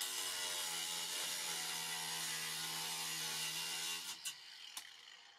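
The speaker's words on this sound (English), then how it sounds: "The 2-inch machine screws were too long, so I cut them off using a grinder and a metal cutting wheel" An angle grinder fitted with a metal cutting wheel cuts through 2-inch machine screws with a steady, harmonic whine lasting about four seconds, then stops, followed by a few light clicks and clatters.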